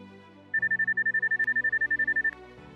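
UIG WATCH handheld metal detector giving its target signal: a steady run of rapid, evenly spaced high electronic beeps lasting about two seconds over a low background hum.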